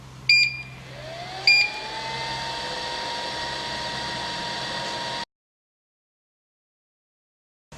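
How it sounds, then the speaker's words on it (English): A Sunmeta ST3042 3D sublimation machine starts with two short beeps, then gives a steady whirring hiss for several seconds before cutting off into silence. "let's start the machine now."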